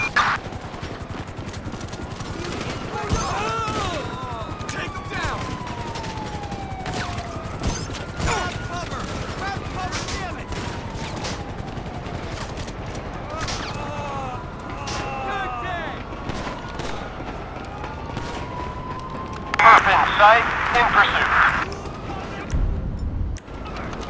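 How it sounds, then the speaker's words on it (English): Gunfire in Grand Theft Auto 5 during a police chase in Cypress Flat, with sharp repeated shots scattered through a busy mix of sirens, engines and game noise, plus a louder burst near the end. "Shots fired at an officer in northern Cypress Flat."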